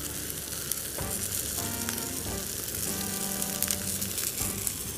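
Loud, steady sizzling of onions frying in a pan with pepper, thyme and pounded spices, a continuous close frying hiss with occasional stirring scrapes and no voices.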